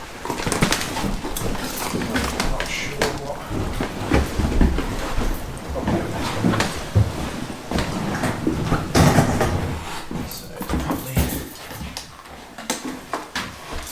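Floorboards being ripped up during a house rewire, with repeated creaks, squeaks and wooden cracks and thumps spread across the whole stretch, loud and close in a room.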